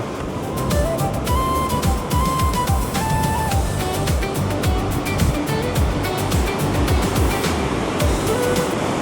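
Rushing water of a fast mountain river in Pahalgam, Kashmir roars steadily and loudly throughout, a dense churning wash with faint tonal sounds and distant voices mixed in.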